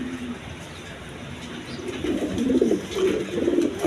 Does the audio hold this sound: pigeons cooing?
yes